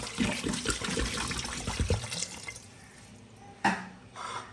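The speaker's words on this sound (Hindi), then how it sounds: "और इसमें मैं डालूँगी 1 लीटर पानी" Water poured over goat trotters in a pressure cooker, a close gurgling splash for about two seconds, followed by quieter drips and a short final splash.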